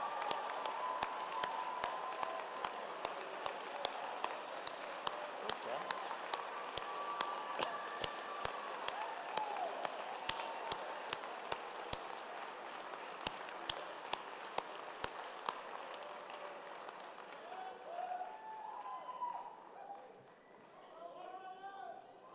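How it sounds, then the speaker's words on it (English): Applause at a community college commencement ceremony, a broad wash of crowd clapping that holds steady for most of the stretch before tapering off, with a few individual sharp claps standing out. "We honor you and applaud you."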